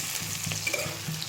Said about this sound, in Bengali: আর মরিচটা কাঁচা মরিচটা যেহেতু ফুটে ফুটে যায়